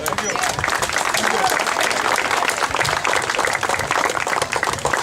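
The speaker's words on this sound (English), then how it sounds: "You guys should give you a hand of applause because you guys are doing a very good job." A crowd at a community rally against violence claps together, a loud continuous wash of many hands lasting several seconds, with voices mixed in beneath the applause.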